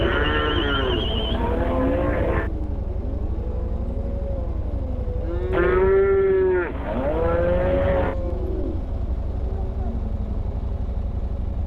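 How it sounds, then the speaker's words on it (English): Cattle low and moo repeatedly while being herded along a road toward Wakkerstroom, South Africa, with drawn-out calls over a steady engine rumble from motorbikes and people talking nearby. "we are herding some cattle on the way to Wakkerstroom, helping the local farmers herd their cattle"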